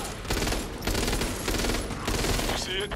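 Rapid automatic SCAR rifle fire in the video game Back 4 Blood rattles in dense, loud bursts across the whole stretch, with voices talking faintly underneath.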